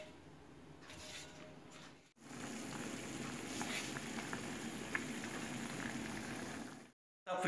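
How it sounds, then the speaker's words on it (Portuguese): Steady crackling and sizzling of beef tripe frying in a pan, continuous for several seconds with a brief pause early on, fairly quiet and close. "Está fritando, que vai uma delícia, pessoal."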